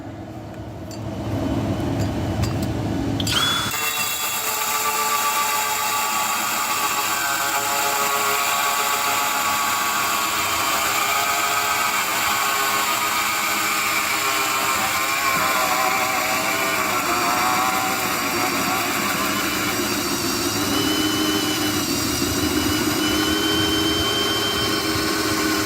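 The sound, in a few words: drilling a hole for a bathroom fan roof vent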